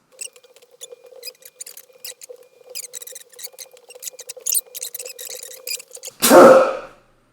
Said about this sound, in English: It's not normally what my sneezes sound like.